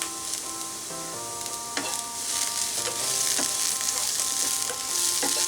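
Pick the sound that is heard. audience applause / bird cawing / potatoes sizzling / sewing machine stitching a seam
potatoes sizzling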